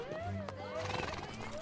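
A horse whinnies in a scene from the 2011 Three Musketeers film, a wavering high neigh that rises and falls, with faint hoof clops and background noise beneath it.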